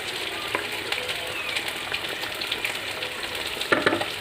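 Okra and fish curry cooks in a pan with a steady close sizzle and bubbling, plus a few clinks of stirring near the end.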